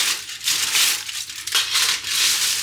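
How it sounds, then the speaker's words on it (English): Aluminium foil crinkling and crushing in rustling bursts while being folded into a foil packet for a Ninja Foodi vegetable steam meal, close and fairly loud. "I'm going to make a foil packet."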